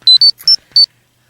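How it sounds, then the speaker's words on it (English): A phone rings with four short, loud electronic beeping tones in quick succession, close and alone, then falls silent. "Hold on, let me get my phone."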